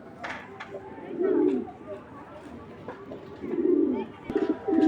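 Two throaty racing pigeon coos, a couple of seconds apart, nearby over a low murmur of background noise.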